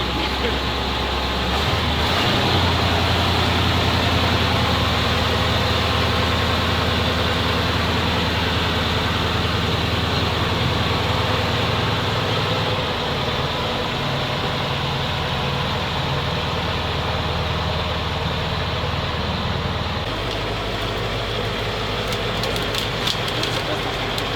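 A ZIL truck engine labors in its lowest gear, a loud, close, continuous low rumble with shifting load and a brief change in pitch. A voice speaks faintly under the engine.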